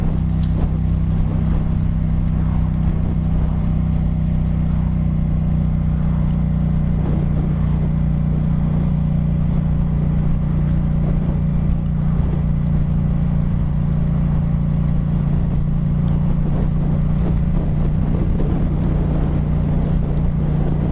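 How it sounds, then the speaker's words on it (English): Strong wind roars steadily outdoors during rain beside a sidewalk, a dense continuous low rumble buffeting the microphone for the whole stretch with no talking. "And it's really windy. The wind is still blowing."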